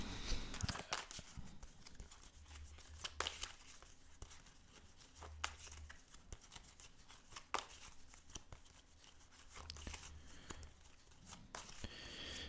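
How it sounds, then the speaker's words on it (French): Tarot de Marseille cards shuffled by hand at close range, with intermittent slaps, flicks and papery rustles over a low background hum. "Je commence donc par mélanger les cartes du tarot de Marseille"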